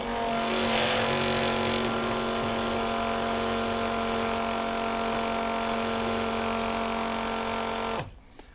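A cordless Anbull 24V battery-powered diesel transfer pump runs steadily, a loud continuous motor whine with a rushing flow of diesel fuel through it, holding constant for about eight seconds before cutting off abruptly near the end.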